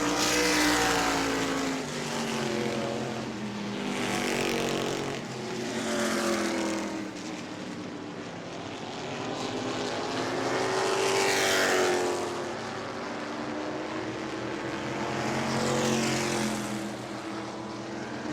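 Race cars roar past one after another on a track at a family fun night event, engines swelling and fading in repeated passes with a steady loud drone between them, no one speaking.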